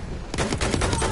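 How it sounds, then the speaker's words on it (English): Machine pistol fire in the Battlefield 1 video game: a fast, loud burst of rapid shots lasting under a second, with faint voices and game sounds around it. "It's a machine pistol."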